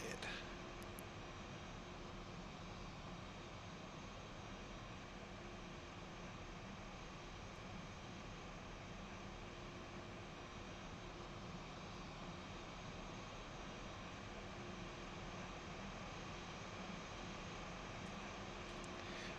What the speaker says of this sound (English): we are taxiing into the gate